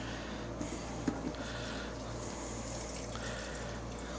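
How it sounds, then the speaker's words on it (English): Fuel poured from a can into the tank of a Mastercraft 46-inch riding mower, a steady close liquid gush and trickle running throughout with no pause. "Let's get some fuel in that thing."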